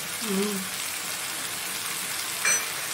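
Spices with salt and a little sugar sizzling in hot oil for mutton kosha, a steady broadband hiss filling the clip with a brief clatter near the end; a voice murmurs briefly at the start.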